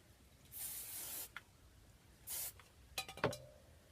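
Two hissing bursts of aerosol hairspray onto teased hair, about a second and then half a second long, followed by light clinks and rustling.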